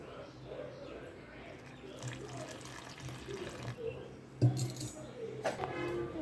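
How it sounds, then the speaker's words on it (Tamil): Water is poured into banana paniyaram batter in a kitchen, making a steady trickle over a low background hum. A brief clink sounds partway through, and a voice talks in the background. "தண்ணி ஊற்றிக்கலாம்."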